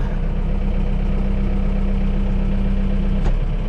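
Machine engine running steadily at a low, constant rumble while the operator lifts during roller crimping work, close and unbroken, with a brief click near the end.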